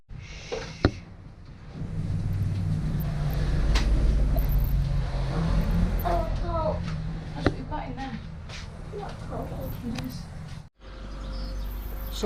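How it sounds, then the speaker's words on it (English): A car idles and moves off at low speed, heading out to a jet wash at the end of a village, its engine hum steady under nearby birdsong and chirping, with a person talking over it before the sound cuts out near the end. "get the car out, make sure it's got fluids, drive it to the jet wash at the end of the village"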